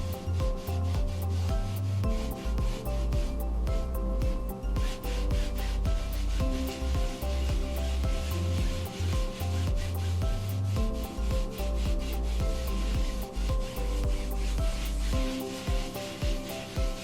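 Wax is rubbed over a chalk paste transfer with a cloth in a steady, close, continuous scrubbing that stays loud and dense throughout, with no voices.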